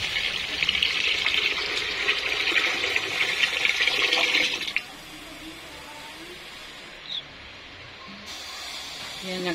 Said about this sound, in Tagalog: naglagay na tayo ng tubig